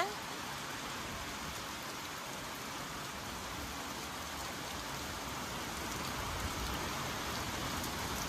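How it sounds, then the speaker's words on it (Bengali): Heavy rain pours during a storm as a continuous, even hiss of falling drops that holds steady and fairly faint from start to end. "এখন তো খালি ভিডিওর মধ্যে বৃষ্টি দেখা গেছে, অনেক ঝড় আইছে"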